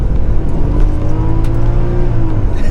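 A 1JZ-engined Toyota Crown accelerating hard from inside the cabin, a loud, steady engine drone climbing in pitch with no talk over it.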